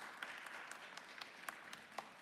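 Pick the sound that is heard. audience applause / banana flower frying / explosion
audience applause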